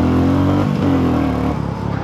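A Royal Enfield Classic 350 motorcycle engine revs up loudly nearby, pitch rising, dipping briefly, then climbing again before dropping back toward idle.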